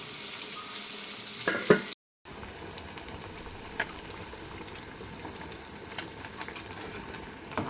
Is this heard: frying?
yes